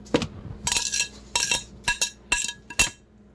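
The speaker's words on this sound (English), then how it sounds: "So now I'm cutting up this onion for the sandwich." A knife rough-chops an onion on a cutting board for a sandwich, about six crisp, close thwacks in an uneven rhythm with brief pauses between strokes.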